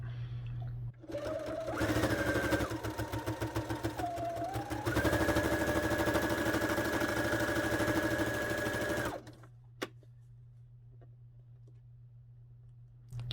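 A sewing machine stitches through thick quilted fabric for a cardboard-backed journal cover, a rapid close motor whir with changing speed over several seconds, then stopping into quiet room hum with a single click.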